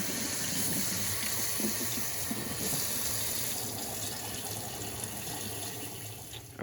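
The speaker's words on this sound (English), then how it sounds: "I've washed his hair 2 times already" Running water rinses a person's natural hair, a steady broadband rush of water pouring and splashing continuously and close, with no speech over it.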